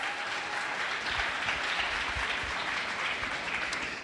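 Applause for the Vice President of the United States at an economic opportunity event: a large crowd claps steadily and densely throughout, with some scattered cheering mixed in.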